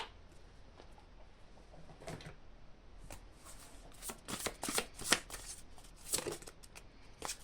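Oracle cards being shuffled for a reading, soft riffling and slapping bursts that grow busier toward the end, close and quiet with no talking.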